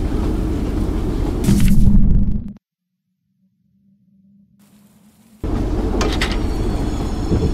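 A train in the Choo Choo Charles video game rumbles with a heavy, loud mechanical roar, then cuts to near silence with a faint low hum for a few seconds before the loud rumble returns.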